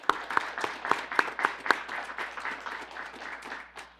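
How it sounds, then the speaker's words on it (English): People at a city council meeting clap for the Older Americans Award recipients, a moderate patter of individual claps from a small group that fades toward the end. "Please join me in a round of applause for these deserving recipients"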